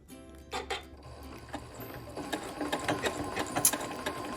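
A sewing machine stitches fusible applique onto a quilt, its needle running in a steady rapid rattle with brief slowdowns and pauses as the fabric is turned, close and fairly loud with no talking.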